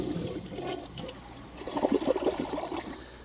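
A toilet flushes, water entering from one side and swirling around the bowl rim through a ring of holes, a close, gurgling rush that swells into bubbling surges near the end.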